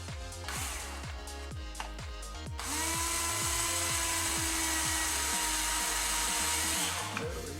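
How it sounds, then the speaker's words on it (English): A power drill with a 1/16 inch bit drills through pre-drilled holes while installing electronics on a QL 250 Mini+ quad frame: short repeated bursts of whirring, then a steady high-pitched continuous drilling whine. "We're going to drill through the pre-drilled holes."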